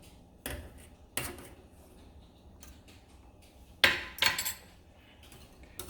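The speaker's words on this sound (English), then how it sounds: "Get it whisked and melted" Pats of butter are whisked into hot lemon pie filling, with a few sharp metallic clinks and scrapes of a whisk against the pan standing out from a quiet kitchen background.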